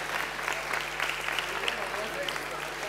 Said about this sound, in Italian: Floriana e Mariella, un applauso anche a loro.